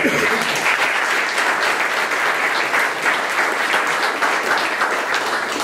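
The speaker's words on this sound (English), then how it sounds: "How about if we give another round of applause to both presenters?" An audience at a startup pitch event gives a sustained, even round of applause for two presenters, dense clapping filling the whole stretch at a steady level.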